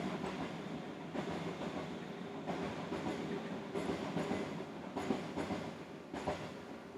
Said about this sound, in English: Hold on, there's a train.